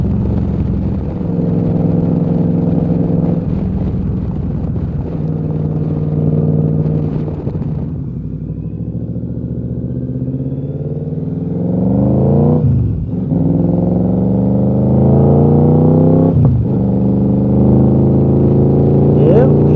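A motorbike, an abandoned machine left sitting for over a year, idles steadily and close up, then revs several times with rising engine pitch, and a voice talks over the engine now and then.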